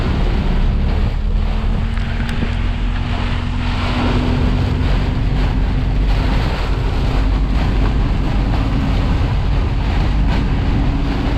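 Strong wind roars continuously across the microphone, a dense, steady buffeting rush that stays loud throughout without a pause.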